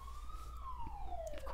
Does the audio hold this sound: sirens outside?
yes